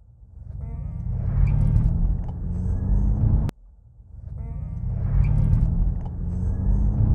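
A Ford Mustang Mach-E GT accelerates hard in unbridled mode. Its electric drive gives a loud, steady rising whine over low road rumble, heard in two similar surges with a brief drop between them.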